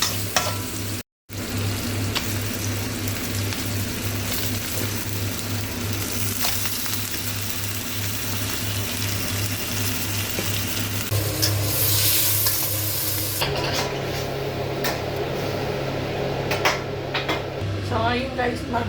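Adobo frying in a pan, a steady close sizzle with scraping and stirring strokes throughout, while someone talks over it.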